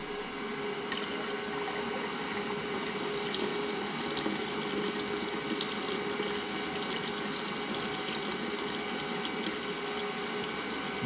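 Filtered water pours in a steady, continuous stream into a homemade wine fermenting vessel of just under five gallons, a constant rushing gurgle at moderate volume with no voices.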